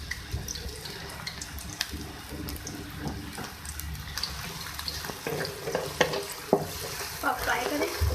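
Onions frying in oil in a pot, a steady close sizzle with light crackles and occasional stirring clatter underneath.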